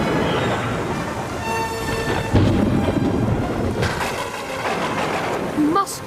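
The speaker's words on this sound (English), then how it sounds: "We're going to have a storm." Thunderstorm in a TV drama scene, a deep thunder rumble breaking in under the sound mix with dramatic music tones and some background voices.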